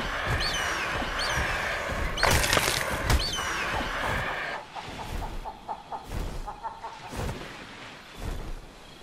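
A bird clucks repeatedly in the video game ARK, short chicken-like calls mixed with game sounds and thumps, with a voice talking over them.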